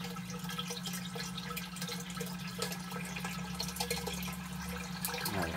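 Water gurgling steadily as a siphon drains an aquaponics grow bed, a continuous nearby trickling wash with faint drips and no voices.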